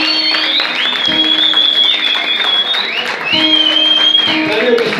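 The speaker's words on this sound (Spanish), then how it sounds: "¡Aplauso para el viejo!" A crowd at a live rap show applauds an older performer while a high, wavering whistle and pulsing musical tones sound over the clapping, which is loud and close throughout.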